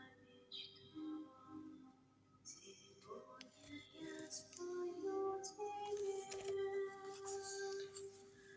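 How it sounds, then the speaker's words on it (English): Small birds, bluebirds among them, chirp and tweet in a continuous run of short, high calls at moderate loudness, with a few brighter notes rising out of the chatter. "lovely birds"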